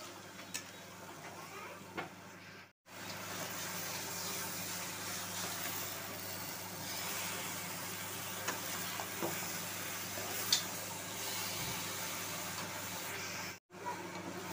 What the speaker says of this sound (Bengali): এইবারে আমি ওই কাঁকড়ার পাগুলো সব দিয়ে দিলাম